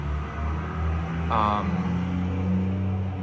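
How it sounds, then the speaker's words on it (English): A truck drives past outdoors with a low, close engine rumble that swells briefly in the middle and then fades away. "I'll let that truck drive by. It's kind of loud."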